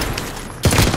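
Gunfire in Call of Duty: after a second of steady background hiss, a sudden loud burst of rapid shots erupts close by and continues to the end.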